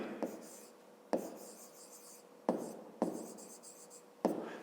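Pen strokes write out a fifth-grade math problem, scratchy sounds broken by five sharp taps as the pen meets the paper, close and quiet.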